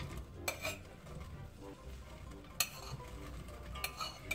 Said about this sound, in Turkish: Hemen pırasaları tencereye gönderiyoruz.